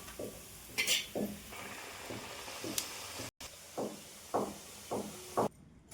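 Pieces of dough frying in hot oil for a healthy breakfast dish, giving a steady sizzle broken by short bursts of bubbling and hissing at a moderate, close level.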